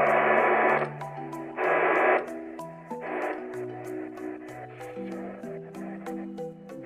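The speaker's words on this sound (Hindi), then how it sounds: "यहाँ पे कोई सिग्नल पकड़ नहीं रहा है, इसीलिए ऐसा आवाज़ आ रहा है।" An iBell BT 700 retro radio with no signal picked up gives loud bursts of hiss and static alternating with warbling tones and steady clicking, fairly close and with no talking.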